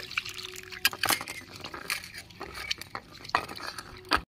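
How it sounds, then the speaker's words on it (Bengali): Red lentils being washed in water in a kitchen bowl: close sloshing and swishing with scattered clinks of grains and metal, uneven bursts of wet rubbing, no talk. "মুসুরির ডালটা আমি ভালো করে ধুয়ে নিচ্ছি"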